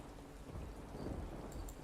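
A rain spell in Divinity: Original Sin II comes down as a steady, rushing downpour with low rumbling underneath, fairly quiet and continuous, with no speech over it.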